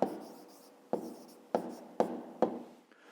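Pen writing down an answer to a fifth-grade maths exercise on paper, quiet and close, a scratchy stroke followed by four more sharp taps and short scribbles spaced about half a second apart.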